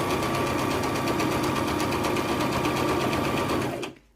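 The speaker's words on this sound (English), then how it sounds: "you're ready to stitch all the way down" Sewing machine stitching a double-layer pleated fabric face mask, a steady close, loud whirring run of rapid needle strokes that stops abruptly near the end.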